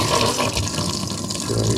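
Water runs from a household tap at low pressure, a steady close splashing flow into a sink with faint handling noise near the end.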